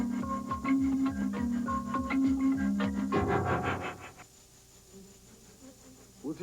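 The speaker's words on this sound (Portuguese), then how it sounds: "Os insetos tanto fascinam como irritam o homem desde o princípio da civilização." Insects buzzing, honey bees among them, in a droning hum with wavering tones, moderately loud for about four seconds before fading to a quieter background.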